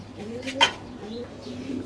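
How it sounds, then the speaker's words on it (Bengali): Big pigeons in a loft give soft, low, rolling coos with short pauses. One sharper chirp or flutter stands out near the middle, and the sound is close and moderately loud. "দুইটা কবুতর কিন্তু আসলে অনেক সুন্দর দেখছেন"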